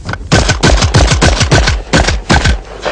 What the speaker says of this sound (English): There's 7 clay targets with a Benelli shotgun.